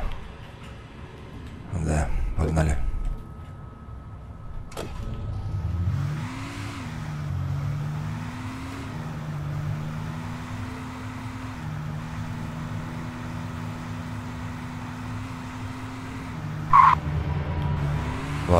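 A car drives and skids in the Alan Wake video game, with a low engine drone rising and falling, sharp impacts early on and sliding tire noise, all at moderate loudness.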